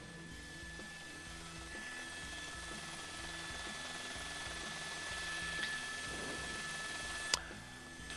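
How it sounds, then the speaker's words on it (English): Police helicopter hovering overhead during a sheriff's pursuit, a steady rotor drone with rhythmic low chopping that holds level throughout, with one sharp brief knock near the end. "The helicopter's still overhead"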